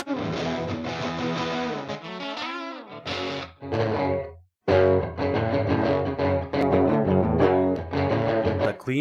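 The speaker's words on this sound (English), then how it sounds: "old school guitar tones." An electric guitar plays through an old-school amp emulation preset, with distorted, chorused chords strummed in short phrases that drop briefly to silence before the playing resumes, loud and alone without talk.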